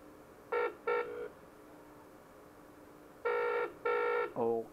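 A GSM phone patch repeater controller plays dialing tones, two short beeps, a pause, then two longer tones and a lower-pitched final tone, clear and close over a faint hiss, with no talk.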